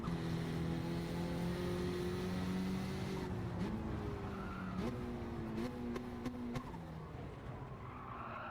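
Race car in Gran Turismo 7 braking late into a corner, engine tone dropping in steps as gears change while tires skid and squeal, loud and continuous throughout with no voice.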